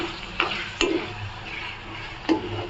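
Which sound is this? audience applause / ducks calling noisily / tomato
tomato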